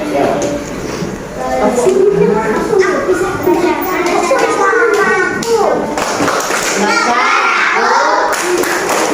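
Children perform the Tepuk Negaraku clapping song together, chanting in unison with patterned hand claps woven through their voices, loud and close in a classroom.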